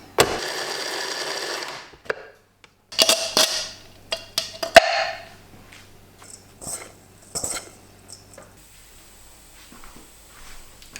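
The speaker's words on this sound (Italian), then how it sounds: "Tolgo una piccola parte e aggiungo un po' di prezzemolo, anche qualche rametto, e frullo ancora." A blender whirs briefly through a salt cod (baccalà) mixture with parsley sprigs. The short motor burst comes first, followed by scattered clicks and clattering of the jar and lid, fairly quiet.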